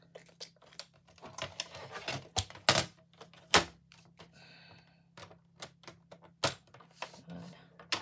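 A small crafting machine scoring fold lines into paper card stock: sharp clicks, taps and thunks in an irregular sequence, close and fairly loud, with quiet pauses between and a faint low hum underneath.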